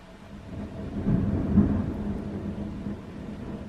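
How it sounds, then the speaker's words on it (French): A low thunder rumble rolls through a steady patter of rain, swelling and fading over a few seconds with no voices. "il pleut"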